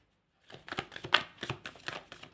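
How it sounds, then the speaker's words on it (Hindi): Tarot cards shuffled by hand at close range, a quick burst of papery riffling and soft slaps lasting about two seconds, no voices. "यहाँ से भी मैं कार्ड्स लेना चाहूँगी,"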